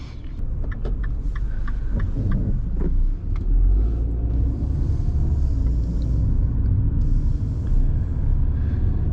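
A Mini Cooper S Roadster with a 1600 cc, 185 hp engine drives along, its steady engine drone and road rumble loud and continuous throughout from inside the car.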